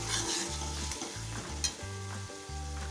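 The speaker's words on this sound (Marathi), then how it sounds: "या मसाल्याला छान असा परतवून घेतलाय आपण इथे हा मसाला." Masala sizzles in hot oil for dhaba-style shev bhaji while a spoon stirs it in regular scraping strokes, close up and steady, with no voices.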